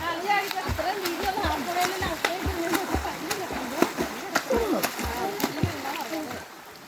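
People bathing in a stream, making repeated close splashes and sloshes at an uneven rhythm, with lively voices calling out over the water.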